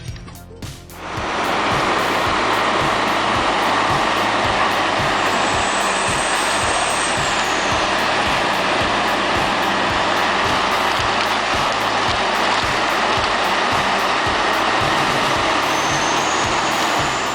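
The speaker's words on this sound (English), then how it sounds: "This Peterson Pacific 5710C grinder is a beast." Peterson Pacific 5710C grinder with a 1,050 horsepower Cat engine chewing through redwood scraps, a loud continuous roar with rapid rhythmic pulsing that starts after a second and holds steady throughout, close by with no talking.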